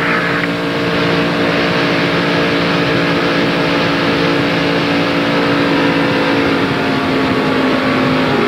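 Stock cars at Talladega in 1996 NASCAR racing, heard from an in-car camera: a loud, unbroken engine roar that drones with full-throttle intensity throughout, with no talking.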